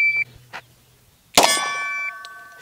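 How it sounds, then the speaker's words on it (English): Shot timer beeper at a shooting range on a pontoon, a short tone followed by a sharp loud metallic clang that rings on, with another brief beep near the end. "I have the beeper set for 2 seconds, so I have to take that shot within 2 seconds"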